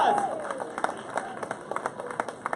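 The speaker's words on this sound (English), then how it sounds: "just give them a round of applause" A congregation at a church service claps in applause, sharp scattered claps building under a pastor's voice at the start, the clapping fairly near and uneven.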